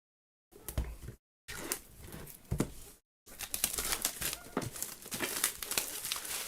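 Plastic film and cardboard packaging of a Pokémon TCG Elite Trainer Box crinkle and tear close up in loud, continuous bursts broken by two brief silences, with no voice.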